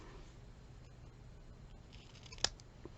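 Scissors cut paper for a Valentine card, giving one sharp, close snip near the end and a fainter follow-up click over a quiet room hiss.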